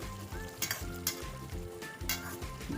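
Banana stem cooking with chicken and potato in a pan for an Assamese kol posola dish sizzles steadily while being stirred, with repeated scraping strokes of the spatula and occasional light clinks against the pan, no talking.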